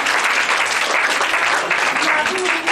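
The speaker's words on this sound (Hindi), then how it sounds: "और तालियां होनी चाहिए मैं इनके लिए।" A room full of people claps loudly and continuously at an Eid event at the Edhi Center in Karachi, dense steady applause from start to finish.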